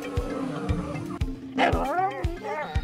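Dog barking in a short series of sharp, close barks with whimpering, yelpy tones in between, loud and irregular, with a voice heard alongside.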